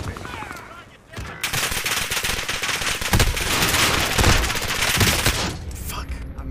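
Rapid automatic gunfire in Call of Duty Warzone crackles in loud, sustained bursts. A brief lull comes near the start, then dense shots run almost continuously to the end with no voices.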